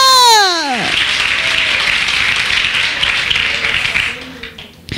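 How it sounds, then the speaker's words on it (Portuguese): A church congregation breaks into sustained applause after a preacher's sung or shouted phrase, dense clapping filling the room for several seconds before fading. "Você pode aplaudir o nome do Senhor"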